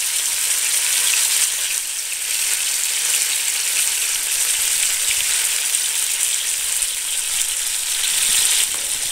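A pork chop cooked with balsamic vinegar fries loudly in a pan, a bright, constant crackling sizzle heard up close with no voices.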